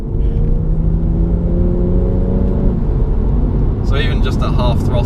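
BMW M240i pulling hard at half throttle, its engine note climbing steadily and loud for nearly three seconds before settling into a broad drone, with brief voices near the end.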